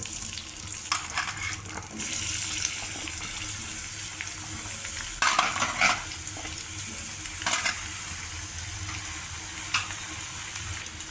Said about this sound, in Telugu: నూనె కొద్దిగా వేడెక్కాక చిన్నగా తరిగి పెట్టుకుని క్యాప్సికమ్ ముక్కలు